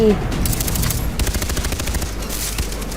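Rapid gunfire in the video game Far Cry 3 rattles in quick repeated bursts, loud and close, nearly continuous across the moment with a few brief gaps.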